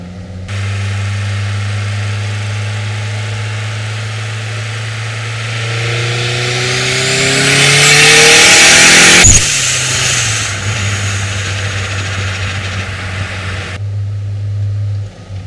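A Toyota MR2 Turbo engine revs and accelerates hard, its rising harmonic drone climbing in pitch over several seconds before a sharp break near the peak, then settling back to a steady, loud hum.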